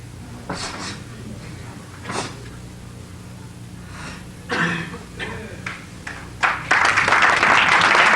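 At the 1982 AAU USA Karate Team Trials in Cleveland, Ohio, a quiet arena crowd shuffles and coughs after a Gojushiho kata, then breaks into loud, sustained applause at the end.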